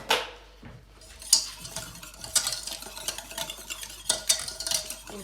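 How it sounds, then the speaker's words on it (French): Spoon stirring salted butter caramel in a pot, repeated scraping and clinking strokes against the pot with a faint background sizzle, close up and irregular. "Et on mélange."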